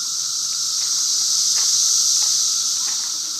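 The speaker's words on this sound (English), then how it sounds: "You can hear all the cicadas." Cicadas in Bristol Station Park drone in a loud, continuous high-pitched buzz, with faint regular pulses running under the steady hiss and no voices.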